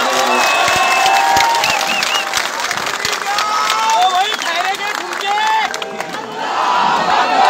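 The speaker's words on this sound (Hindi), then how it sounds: "तो एक जोरदार तालियां अपने खुद के लिए बजा दी जाए." A large crowd at an Aurangabad political rally applauds and cheers loudly, with whistles, shouts and sustained clapping building into a dense roar that holds steady for several seconds.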